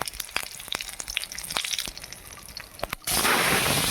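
Five-spice seeds with green and dried chillies go into hot oil, first with sharp crackles and pops, then a sudden loud, continuous sizzle that fills the last second.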